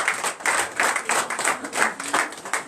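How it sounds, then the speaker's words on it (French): Church congregation applauding, dense clapping from many hands that swells in uneven pulses, fairly loud and close, with no talk over it. "Veuillez vous asseoir et donner l'acclamation à Jésus."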